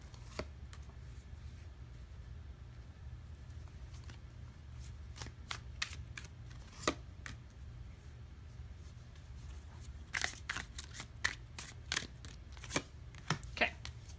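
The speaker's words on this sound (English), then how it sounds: "I am pulling a card for your growth period" Tarot cards are shuffled and drawn in a quiet room: soft, papery riffles and scattered crisp snaps and taps come at an uneven pace, louder in bursts near the end.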